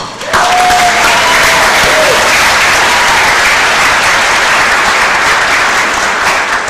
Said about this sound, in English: And I'd like to applaud her as well.